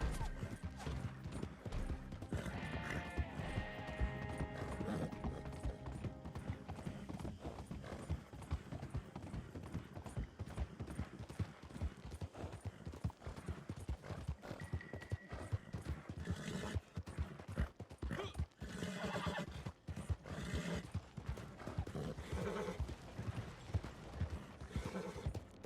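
In Red Dead Redemption Online, a horse gallops with dense, continuous hoofbeats and clatter. The pounding is close, steady and loud for the whole stretch, with occasional game noises mixed in.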